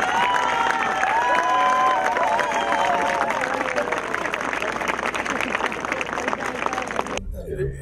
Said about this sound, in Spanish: Las palmas para don Osvaldo Castañeda Jiménez.